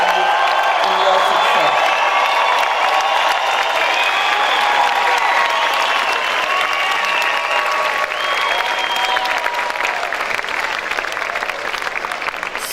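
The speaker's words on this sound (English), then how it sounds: "I ask that we all give a round of applause to recognize the role that parents and loved ones have played in your" A large audience at a graduation ceremony applauds loudly and continuously, with dense clapping and scattered cheers and whoops.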